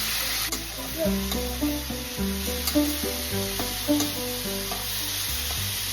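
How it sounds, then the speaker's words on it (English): Vegetables sizzle in a hot pan while being stirred, with a steady hiss of frying under repeated scraping strokes of a spoon and a soft musical tone running alongside. "I put the vegetable in the pan. Now I'm going to mix it."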